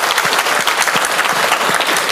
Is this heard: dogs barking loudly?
no